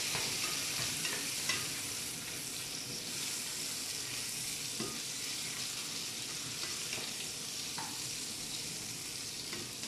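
Zucchini browning in a frying pan, a continuous even sizzle and hiss for about ten seconds, with faint stirring and no voices.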